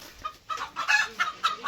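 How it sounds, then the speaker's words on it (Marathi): Several chickens cluck in short, uneven bursts, close by and fairly quiet, with no talking over them. "इकडे कोंबड्यांचा काय आगट चालू आहे"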